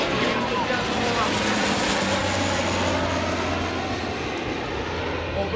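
Spartan military transport aircraft fly past at an airshow, two planes crossing, with a loud, steady propeller-engine roar that fills the whole stretch at close range.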